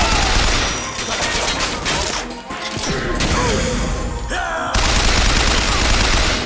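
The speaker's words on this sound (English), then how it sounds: "You literally just shot civilians and a soda clerk." Dense bursts of gunfire from the video game BioShock Infinite crackle and crash almost without pause, with rapid shots and impacts layered into a loud, busy barrage that briefly thins before resuming.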